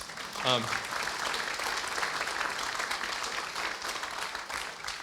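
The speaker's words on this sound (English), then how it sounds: "You can clap for them if you want." An audience at a city address applauds veterans and first responders, steady sustained clapping filling the room for several seconds after a brief spoken word at the start.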